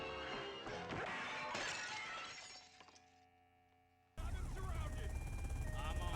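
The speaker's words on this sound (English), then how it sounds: "he's running out of this movie theater and just slams into the glass" A man running out of a movie theater in The Twilight Zone slams into a glass door, a loud crash and shatter of glass over a busy film soundtrack that fades, then a sudden sustained burst of noise.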